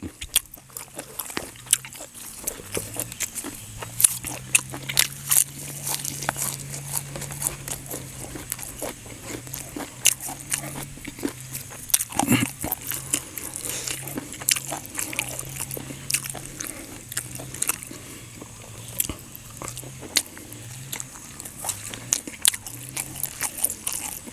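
Close, crunchy chewing of a pounded banana and apple snail salad, with repeated bites and crackles over a long stretch, with a low droning tone underneath.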